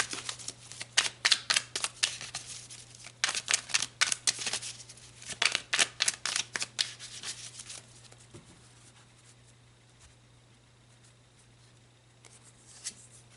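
Tarot cards shuffled by hand at close range, with quick papery riffles and slaps in dense bursts for about eight seconds before trailing off into near silence, with no talking.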